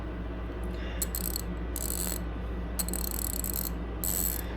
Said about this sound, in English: Compare the ratchets here.